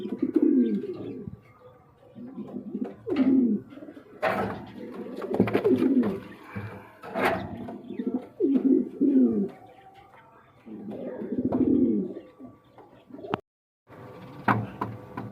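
Large red-eyed pigeons coo close by in a series of throaty, rolling bursts separated by short pauses, with a few knocks and one sharp click near the end.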